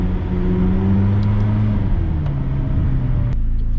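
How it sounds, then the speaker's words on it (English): McLaren engine rumbling through a downshift while driving in central London, a loud, close, droning tone that shifts down in pitch partway through, with a brief jolt near the end. "Little downshift for London"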